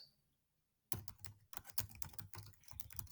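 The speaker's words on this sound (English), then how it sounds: "What do I type here?" Typing on a computer keyboard while filling in a Google Form: brisk, irregular key clatter close to the mic, starting after a short silence and continuing steadily with no talk.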